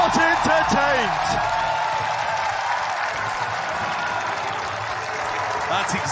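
A large esports arena crowd at a Valorant Masters Tokyo match roars and applauds after a 1v3 clutch play, a dense sustained wash of cheering with a commentator talking over it.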